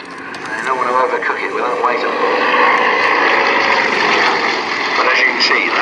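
A military propeller aircraft at an air show drones overhead, a loud continuous engine sound while someone talks over it through a public address.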